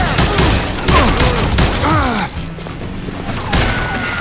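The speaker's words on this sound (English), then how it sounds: "Who's shooting at us?" Gunfire in the Western shooter game Call of Juarez Gunslinger, set at a railway outside Parachute, Colorado: dense, loud volleys of shots with booming impacts and crashes, briefly easing before another burst.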